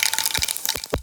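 Cumin and mustard seeds crackle in hot oil in a pan for a radish fry, a dense run of close, sharp pops and crackles with no talking.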